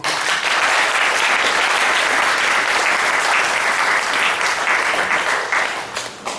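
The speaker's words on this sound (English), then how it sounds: "Can we give them a clap?" An audience at a forum on child abuse gives steady, dense applause, loud and sustained for several seconds before tapering off near the end.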